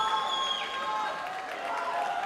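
Spectators at a high school swimming championship cheer on a swimmer, a continuous crowd roar with whistling tones in a reverberant pool hall, under a commentator's voice.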